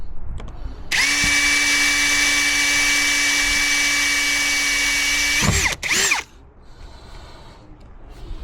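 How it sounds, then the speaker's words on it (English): A power drill bores a slightly larger hole through the metal roof of a Promaster van, a loud steady whine held for about five seconds, then a brief stutter, a short final burst and a stop, leaving quiet room noise. "So I'll have to drill a slightly larger hole."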